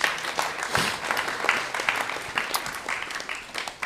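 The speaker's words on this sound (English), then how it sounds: "So let's give them a big round of applause." Audience applause in a temple hall, a dense patter of many hands clapping at a moderate level, steady across the few seconds with scattered louder claps.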